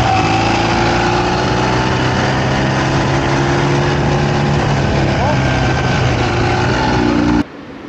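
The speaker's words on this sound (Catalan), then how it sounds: "d'una moto amb sidecar Ural" A Ural sidecar motorcycle engine runs loud and steady at close range, a constant throbbing drone that cuts off abruptly near the end.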